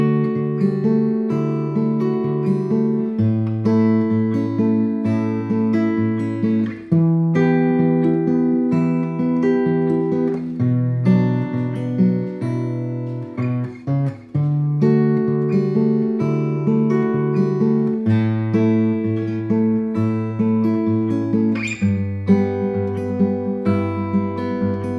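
Acoustic guitar fingerpicks a folk chord progression, a steady flowing pattern of plucked notes ringing over shifting bass tones, clear and close with no voices.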